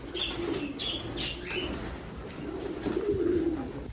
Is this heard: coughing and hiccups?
no